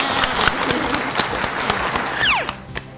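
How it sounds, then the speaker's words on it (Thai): Group of children clapping for themselves after a science activity at a learning center, brisk, dense applause close by with a few sharp claps and a brief high voice mixed in. "ขอเสียงปรบมือให้กับตัวเองกันอีกครั้งหนึ่ง"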